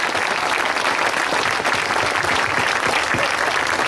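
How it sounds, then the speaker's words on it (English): A political rally crowd applauds small business people with a thick, continuous roar of clapping, loud and close, with a few distinct hand claps poking through. "Give them a round of applause for what they do for our communities"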